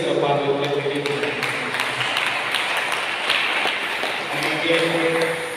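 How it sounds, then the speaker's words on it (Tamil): Church congregation clapping hands together in thanks during a fasting prayer service in Ilankulam, a steady wash of many hands with voices mixed in. "நம்முடைய நன்றிகளை கைத்தட்டி சிறப்பாக தெரிவித்துள்ளேன்"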